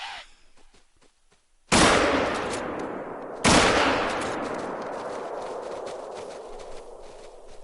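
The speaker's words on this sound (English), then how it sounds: "So I just pulled off 2 shots there." Two sharp, loud shots from a .270 rifle in theHunter hunting game, about two seconds apart, each followed by a long outdoor echo fading away, with quiet ambience before the first.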